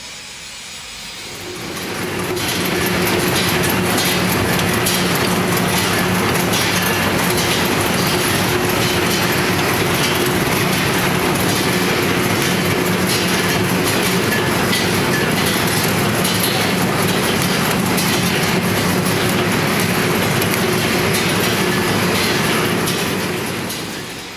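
A high-speed flat-type lollipop production line, model YGB350, rises out of near quiet after about two seconds. It then holds a loud, dense mechanical clatter with steady rhythmic knocking and humming for the rest of the stretch, with no speech.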